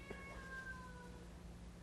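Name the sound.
domestic shorthair cat meowing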